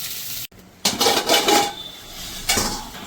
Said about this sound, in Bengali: এটা 2 মিনিট আমি একটু ভেজে নেবো।